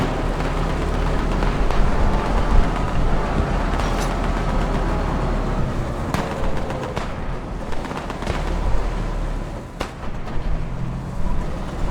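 Loud, continuous rumbling engine noise from a tank or vehicle in the World War II video game Squad 44, a dense roar with scattered sharp bangs and clanks throughout, no talk.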